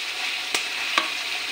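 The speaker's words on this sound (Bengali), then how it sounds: "টমেটোটা পুরনের সঙ্গে মিশিয়ে নেই।" Chopped tomato is stirred into a soybean and onion filling frying in a pan, a steady close sizzle broken by three sharp scraping strokes of the spoon, with no talking.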